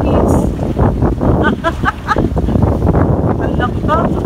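Strong wind buffeting the microphone over rough sea waves at a beach resort in Maribago, Lapu-Lapu, a constant loud roar with a voice speaking over it.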